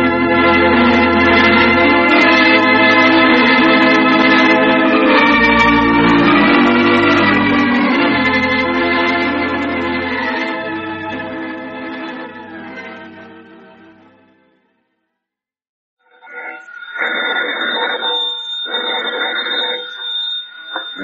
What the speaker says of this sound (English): Granny's, Abner, I believe that's our ring